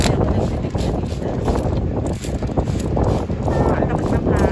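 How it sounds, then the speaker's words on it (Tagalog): Strong wind gusts buffet a back terrace on the 19th floor of a high-rise among other buildings, a loud, continuous roar of rushing air that rises and dips throughout. "Ang lakas ng hangin."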